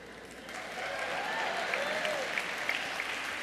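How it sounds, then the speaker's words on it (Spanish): An audience at a Spanish-language sermon applauds, a fairly soft, diffuse wash of clapping that swells after the first half second and holds steady, with a faint voice-like tone drifting over it. "Un aplauso para ella."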